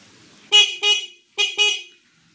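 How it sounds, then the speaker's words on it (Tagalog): Two pairs of short, loud horn honks from a SkyGo King 150 motorcycle, beep-beep, a pause, then beep-beep again, sharp and close with nothing else around them. "Busina. Yun, lakas na rin."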